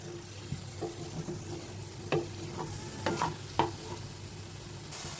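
Banana slices fry in oil in a pan, giving a steady low sizzle with a few sharp crackles and light stirring clicks. The sound is close, and no one speaks.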